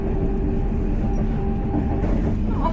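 Steady rumble and rolling hum of a passenger train on the Venice to Verona line in Italy, heard continuously from inside the carriage with no pauses.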